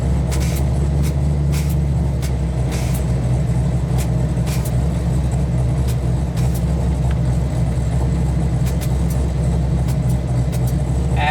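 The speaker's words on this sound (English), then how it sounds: "We're getting the car, letting it warm up" Hyundai Genesis Coupe idling while warming up, a steady low engine rumble held throughout at close range, with scattered light clicks and taps over it and no talk.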